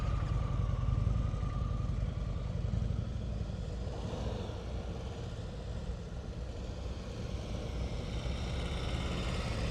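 A motorcycle engine putters at low revs during slow-speed riding practice, a faint, steady drone that swells and eases slightly as the bike creeps along.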